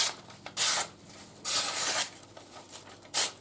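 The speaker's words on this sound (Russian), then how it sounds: "придется отрезать еще кусок от этого полена" A Laguiole folding knife carves a piece off a wooden log, with three close, rasping scraping strokes of differing length separated by short quiet pauses.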